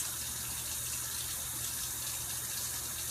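Water runs steadily from a sink tap while hands are rinsed during handwashing, a constant hissing splash with no talk.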